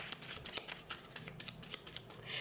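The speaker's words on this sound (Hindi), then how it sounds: "Okay, so let's shuffle the cards and let's C option 2।" Tarot cards being shuffled by hand, a quick run of soft papery riffles and light slaps close to the microphone, with no talking over it.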